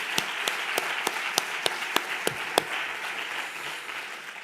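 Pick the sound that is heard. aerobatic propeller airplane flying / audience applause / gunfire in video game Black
audience applause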